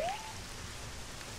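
Steady, soft rainfall from the video game Zelda: Ocarina of Time patters evenly throughout, with a brief rising electronic tone at the start.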